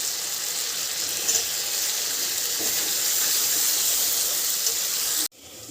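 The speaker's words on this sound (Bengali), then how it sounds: "ওটা দিয়ে ফ্রাই করে নেব ভালো করে" Capsicum and tomato with ginger paste fry in hot oil for vegetarian chilli soybean, giving a loud, steady, close sizzle that holds evenly and then cuts off abruptly near the end.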